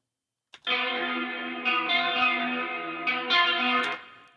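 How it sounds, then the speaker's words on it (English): A mixed music track run through a chorus effect with reverb plays continuously, a dense, shimmering, layered sound with washed-out, echoing tails and no talking. "I'll change the chorus on this one so it has a"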